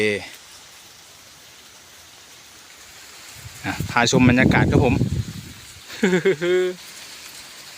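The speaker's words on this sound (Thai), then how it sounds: "ฝนเริ่มหนาเม็ดขึ้นเรื่อยๆ เข้าร่มก่อนนะครับ" Rain falls on a sugarcane field in Suphanburi as a steady, soft hiss throughout, while someone talks over it in the middle and near the end.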